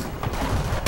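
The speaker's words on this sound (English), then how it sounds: "Enemy artillery!" Gunfire and artillery in the World War II shooter Call of Duty: World at War, a dense burst of combat noise that fills under a second and swells into a louder blast at the end.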